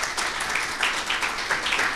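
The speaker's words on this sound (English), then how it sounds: "Let's have a round of applause for Ladislav." Short burst of audience applause after a conference talk on a 3D street map, a dense wash of clapping from a crowd lasting about two seconds.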